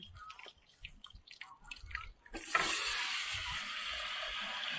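Fish dropped into hot oil outdoors in heavy rain, with dripping and light crackle at first, then an abrupt loud, steady sizzle that fills the rest of the clip, close and without talk.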